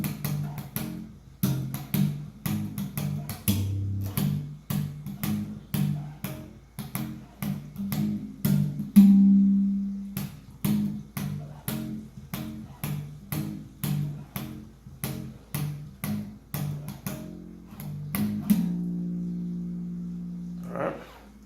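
A 5-string bass plays the intro to a gospel tune, solo and up close, with plucked low notes in a steady rhythmic pattern and a few sustained tones near the end.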